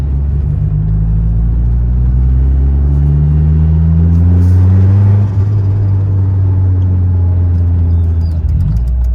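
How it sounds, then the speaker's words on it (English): A Mitsubishi Evo with a 4G93 SOHC turbo engine accelerates hard from inside the cabin, a loud, deep engine drone climbing steadily in pitch through a gear, then dipping briefly at the end. "Turbo sounds sick."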